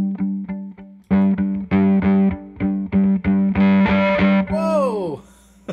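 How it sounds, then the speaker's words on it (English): Open G and D strings of a violin are plucked through a Bunnel Heavy Metal distortion pedal, starting with a few dry short plucks, then a loud run of heavily distorted repeated notes ending in a sliding, fading tone. "I'm just gonna pluck the open G and D strings here"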